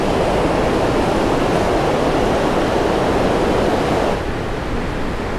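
Water pours down a salmon ladder on a river in Ketchikan, Alaska, a loud, dense, continuous roar that stays even and close throughout, with no voices.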